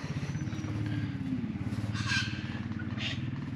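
A 1960 Ford F100 with a fairly standard 302 Windsor V8 idles with a steady low rhythmic rumble, heard from the engine bay at moderate level, with a few faint higher noises above it.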